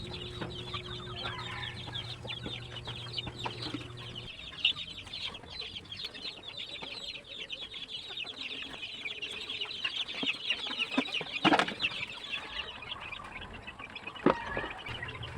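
Heritage chickens cluck and call continuously on a farm, with several birds nearby and occasional louder squawks over a steady background of fowl chatter.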